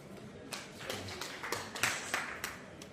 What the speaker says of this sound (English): Ababio, clap for Adare.